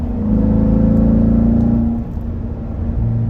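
A C7 Corvette Z51 with sport suspension and magnetic ride, driven in sport mode on a winding parkway, gives a steady loud engine drone and whir from inside the cabin, dipping briefly before rising again.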